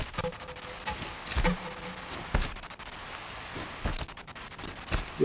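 Steady rain from the open world of the video game Horizon Zero Dawn, a soft continuous patter with scattered drop ticks and brief low thumps, fairly quiet and with no talking.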